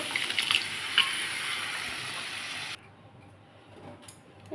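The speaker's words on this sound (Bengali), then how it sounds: "এবার আমি যে ডালটা সেদ্ধ করে রেখেছিলাম মুগের ডাল ওই ডালটা দিয়ে দেবো" Boiled mung dal is poured into a pan with a steady, close liquid splashing and gurgling. The pouring stops abruptly partway through and leaves faint kitchen noise.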